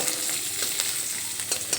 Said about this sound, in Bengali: এখন এই বাকি তেলের মধ্যে রসুনের কোয়াগুলো দিয়ে দিলাম এই রসুন একটু ভেজে নেব